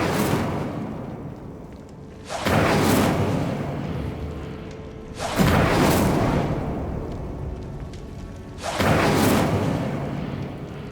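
The fire spell Incendio is cast again and again in Hogwarts Legacy, producing three big whooshing bursts of flame that roar up and fade out at roughly three-second intervals, loud and close, with no voice over them.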